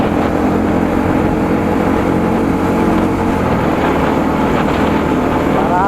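A motorcycle on a road test after new wheel bearings were fitted gives a continuous loud engine drone with wind rush as it rides along, steady throughout the few seconds.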